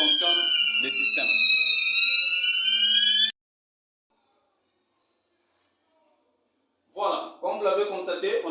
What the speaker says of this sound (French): on a fait le premier test avec les détecteurs de fumée